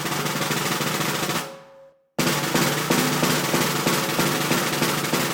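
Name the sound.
snare drum press roll, uneven hand pressure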